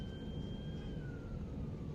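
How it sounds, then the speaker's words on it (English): A faint siren wails in the distance, its tone slowly sliding downward over a low, steady background rumble on a street. "More sirens?"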